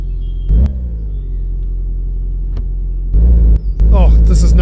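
A car engine in the mechanic game My Garage, a low steady idle rumble broken by sharp clicks, then a louder revving surge near the end, heard alone and close.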